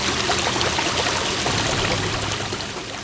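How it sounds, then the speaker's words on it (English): A small restored waterfall in the Ozarks flows in a steady, continuous wash of splashing water, fairly close and even throughout with no voices. "commented on the waterfall, how pretty it is, and you know the sound of it is restful"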